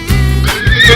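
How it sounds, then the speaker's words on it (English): Cartoon zebra call sound effect built from a horse-like whinny: a short, loud, nasal neighing bray that rises and wavers near the end, close and alone. "Zebra."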